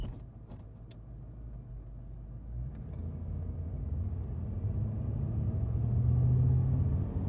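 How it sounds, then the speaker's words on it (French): Steady low rumble of a car rolling along a road, heard from inside, swelling gradually louder toward the end with a faint engine tone. "de nouveau dans une voiture qui roule vers une destination qui m'est inconnue"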